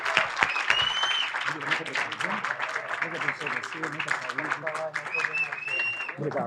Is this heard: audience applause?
yes